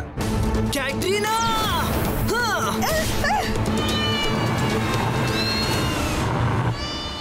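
A cat meows repeatedly in a cartoon scene, giving a series of rising and falling mews, some drawn out like a caterwaul. A busy, loud background of music and effects runs underneath for the whole stretch.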